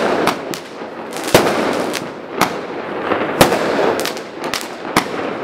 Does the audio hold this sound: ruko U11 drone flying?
no